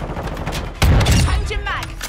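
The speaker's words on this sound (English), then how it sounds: "Holy crap, sentry gun is going nuts." An automated sentry gun in Call of Duty MWII fires a rapid burst, a sudden loud volley of shots that rings on briefly, with a voice talking before it in the game.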